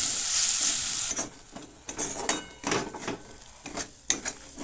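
Masala with green chilli and tomato frying in oil for a Bengali dum aloo, opening with a loud hissing sizzle, then repeated metal spatula scrapes and clinks against the pan over a quieter fry, close up and without talking.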